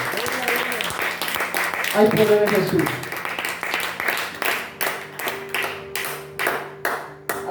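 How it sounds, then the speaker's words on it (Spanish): Church congregation clapping for the Lord at a night youth service, steady rhythmic clapping close by under a preacher's voice and tonal music, with the claps growing more distinct toward the end. "¿Cuánto le dan palmas al Señor?"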